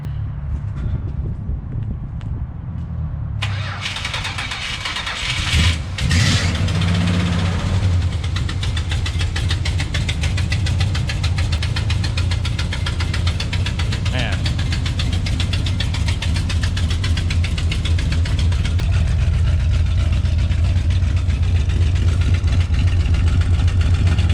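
Modified classic Dodge Polara engine cranking and catching after a quiet moment, then settling into a loud, rough, lumpy idle with a steady low throb close by for the rest of the stretch.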